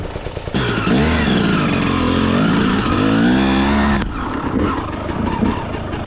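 An enduro motorcycle engine revs up with a rising, buzzing pitch as it accelerates, loud and close, then drops back to a rougher idle-like rumble after a few seconds.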